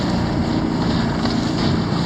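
A fishing boat heads out of the harbor into a stiff wind on Lake Pontchartrain, with steady, loud rumbling wind and water noise throughout as the hull bounces on choppy waves.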